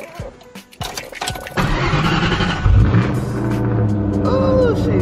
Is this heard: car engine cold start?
yes